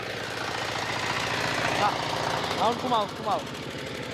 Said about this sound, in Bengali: ইঞ্জিনটার হেভি মিষ্টি সাউন্ড